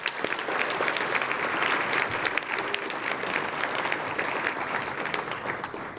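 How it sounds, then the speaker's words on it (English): A banquet audience at a unity banquet and scholarship benefit gives a sustained round of applause, dense, even clapping that fills the room steadily from start to finish with no voices over it. "can we give one more round of applause for Ren?"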